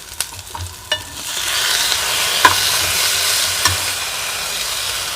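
Garlic frying in a pan for a drumstick and garlic curry, giving a continuous close sizzle with a few sharp clinks of a utensil early on, no talking.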